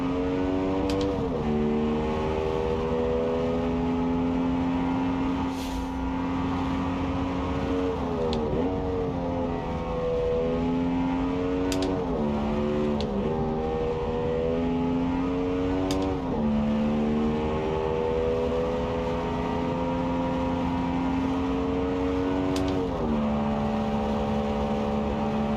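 A race car engine screams flat out up Pikes Peak in BeamNG, holding a loud, steady high drone with repeated quick gear-change dips and revs climbing again, running alone for the whole stretch.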